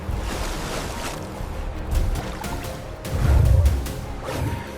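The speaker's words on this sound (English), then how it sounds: "The noise of splashing water deafens the entire river valley." Animals splashing through water during a river crossing, a broad churning wash of splashes and surging current that rises and falls, with heavier bursts near the end.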